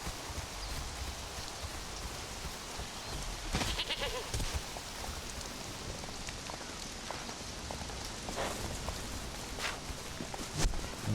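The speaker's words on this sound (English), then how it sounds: "let's try these goats over here, see if they are big enough for her." Goats in the video game Conan Exiles let out a few scattered bleats over a constant rain-like wash of ambient game sound.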